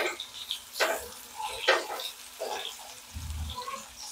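Curry leaves and onion stirred in a hot pan for spicy shevaya: a spatula scrapes and clinks in short strokes over a soft, steady sizzle, close and fairly quiet.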